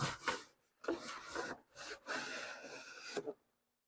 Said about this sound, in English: it definitely cuts open the box